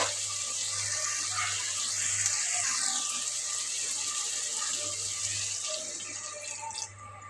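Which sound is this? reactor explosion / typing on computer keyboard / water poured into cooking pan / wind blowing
water poured into cooking pan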